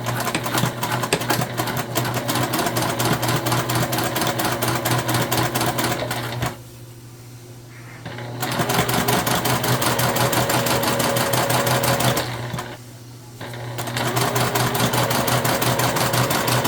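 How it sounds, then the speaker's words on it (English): Sewing machine back stitching a beginner wet bag, a loud rapid needle clatter running continuously with two brief pauses, close and alone with no talk. "We're back stitching at the beginning and the end,"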